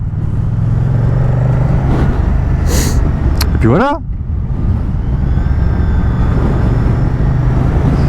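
A Moto Guzzi V100 Mandello twin-cylinder motorcycle rumbles steadily while riding, with loud wind noise and a quick rising rev partway through, as someone talks over it.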